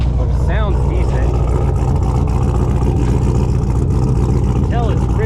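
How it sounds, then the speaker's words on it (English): An LS1 V8 swapped into a 1992 Chevy C1500 idles loud and steady up close, running rich, with a continuous low rumble throughout as someone talks over it. "if I can get it to idle a little bit lower than this, but it sounds decent"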